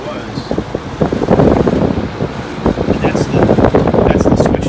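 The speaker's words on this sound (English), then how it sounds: "That's the switch knob rattling." GE electric fan running on high, with a steady loud whoosh of blade noise and a faint rattle from a loose switch knob. A voice speaks over it.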